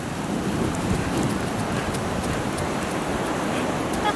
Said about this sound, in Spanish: Voy porque está lloviendo